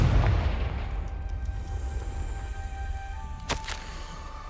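In a Harry Potter video game, a Confringo spell explosion opens with a heavy booming blast that fades into a low rumble, followed a few seconds later by a sharp crack.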